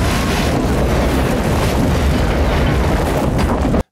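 A massive explosion blast from the 1997 action film Double Team roars loudly, a dense sustained rumble and crackle filling every moment before cutting off abruptly.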